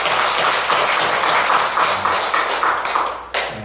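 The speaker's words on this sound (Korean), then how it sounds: "우리 여러분 자신을 위해서 우리가 박수를 한번 쳐주고 싶습니다." An audience at a Buddhist lecture on dependent origination claps together in a brief round of applause, a dense, even patter of many hands that fades out at the end.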